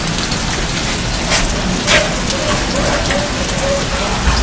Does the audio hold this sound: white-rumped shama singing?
no